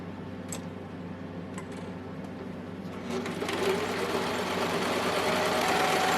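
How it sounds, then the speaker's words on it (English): A serger sewing machine runs steadily, stitching a few stitches so the old thread pulls new thread through during rethreading; the close, continuous mechanical whir grows slightly louder partway through. "make a few stitches and let the old thread pull the new thread through the machine"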